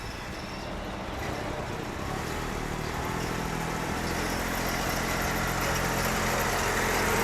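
A car engine runs steadily with the transmission shifted into reverse, a continuous close-up mechanical drone with a broad noisy hiss that holds level and slightly builds over several seconds, with no talking.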